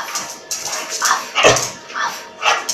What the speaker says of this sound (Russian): Вы только представьте себе пса, который лает шепотом.